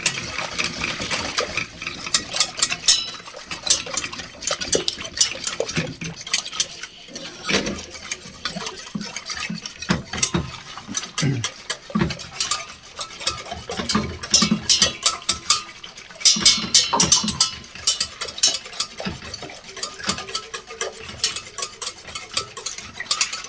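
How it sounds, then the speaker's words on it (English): Eggless lemon curd whisked quickly in a bowl, a busy run of rapid metallic scraping and clinking strokes that rises and falls in bursts, close and fairly loud with no talking. "So now what we've got to do is whisk this. Whisk quickly until smooth."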